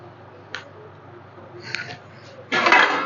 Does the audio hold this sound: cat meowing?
no